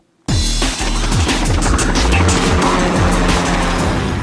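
Car driving in Scarface: The World Is Yours on PS2, a loud steady engine roar that starts abruptly and continues with shifting revs and short sharp impacts layered on top.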